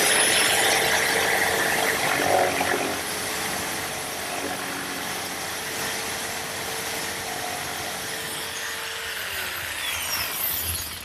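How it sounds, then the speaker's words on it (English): A woodworking jigsaw rounds the corner of a desktop for a roll top desk. The saw gives a steady, close buzzing whine with squealing overtones, running continuously throughout. "I've rounded the corner with my jigsaw"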